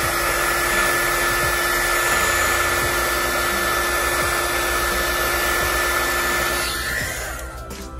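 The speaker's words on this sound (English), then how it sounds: "I'm gonna grab my heat gun and put it over the entire area" Heat gun blowing over a vinyl skin wrap on a Nintendo Switch Pro Controller, a loud, steady close-up whoosh with a constant whine that fades slightly at the end, no talk.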